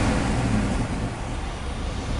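A car engine with a misfire, a hard-crank fault and transmission trouble runs and is revved, a steady broadband drone holding level, rumbling low and close.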